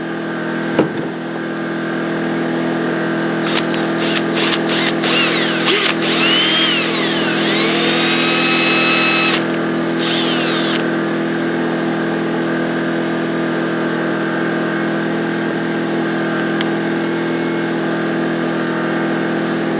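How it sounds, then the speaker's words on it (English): A hand drill spins a cotton swab inside a go-kart carburetor, whirring in short bursts and a longer steady run over a constant engine-like hum. "on this carburetor with my drill and a Q-tip"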